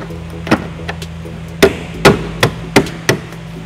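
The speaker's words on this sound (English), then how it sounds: "I'm just going to line up our body plugs and just tap it in." Taillight body plugs are tapped into place while trailer wiring goes into a 2011 Ford Escape, making about seven sharp, close knocks at irregular intervals over a low steady hum.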